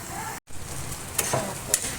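Soft, steady sizzling of food frying in a pan, with a couple of faint scraping stirs; no talking.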